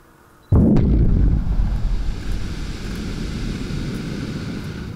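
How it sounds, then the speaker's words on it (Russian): Explosive charges blast river ice on the Pinega River: one sudden heavy boom, then a long low rumble and roar of breaking ice and debris that carries on steadily to the end. "начали взрывать лед"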